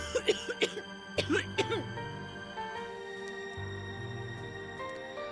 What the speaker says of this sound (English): As if she's heard my thoughts, Becca starts coughing heavily. Heavily. Her hand hastily goes to her mouth to stifle the sounds.